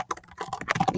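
Quick bursts of keystrokes on a computer keyboard as a message is typed, close and crisp, with uneven clicks and no talking.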